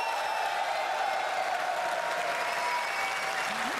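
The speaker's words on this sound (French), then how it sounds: "Par applaudissement, il y a combien d'hommes dans la salle?" Audience in a comedy show hall applauding, the men answering the call to clap; steady dense clapping with some crowd noise, sustained and fairly loud throughout.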